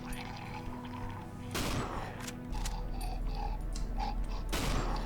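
Gunfire bursts from the horror video game Cry of Fear, with broadband blasts around two seconds and again near the end, over low rumbling ambience and scattered smaller impacts.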